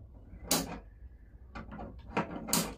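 Adjustable wrench slipping on an air conditioner pipe nut, giving several sharp metallic clicks and scraping bursts close by, with quieter rattling and shifting between them.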